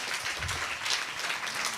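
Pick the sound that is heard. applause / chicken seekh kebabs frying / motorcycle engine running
applause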